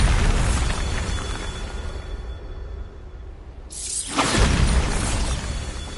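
Bombarda spell explosion in the video game Hogwarts Legacy: a loud blast that starts the clip and trails off into rumbling debris, then a second sharp burst follows a few seconds later, with no talk.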